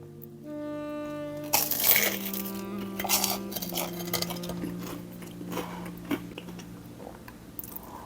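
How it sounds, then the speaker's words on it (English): Someone bites into crunchy oven-baked bakery toast, producing a few sharp close crunches and chewing over a sustained background hum, with light clinks of dishes. "let's check out the crunch. Let's see if it's got some crunch level."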